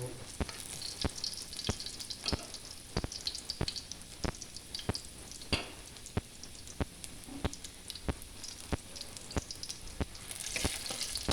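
Garlic and onion fry in oil with a constant crackling sizzle, and sharp spatula taps against the pan recur at regular intervals, close by, with no talking.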